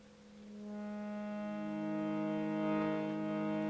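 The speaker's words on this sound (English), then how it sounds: "you bring in the sound of the harmonium" A harmonium drone swells in softly and holds a rich, sustained chord during a gentle yoga nidra relaxation session, faint at first and growing fuller, with no talking.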